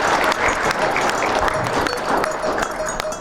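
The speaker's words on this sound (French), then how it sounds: "applaudissez très fort pour monsieur le doyen de la faculté de sciences" Vigorous clapping from an audience at a faculty of sciences academic opening ceremony welcoming the dean, a thick, continuous wash of hands that stays loud for the whole stretch, with faint crowd murmur beneath.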